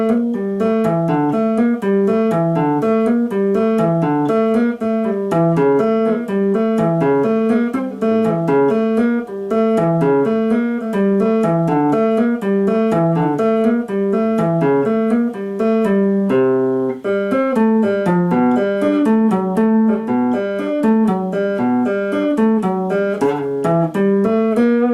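Notes played one after another without the sustain technique, running as a steady, loud, continuous stream of short separate tones, like a run of scales, with no talking.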